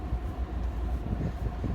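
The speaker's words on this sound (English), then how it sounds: "I believe there's a train coming." A train rumbles past on the railway near a footbridge, a steady low rolling drone with faint clatter, heard close by and uninterrupted by voices.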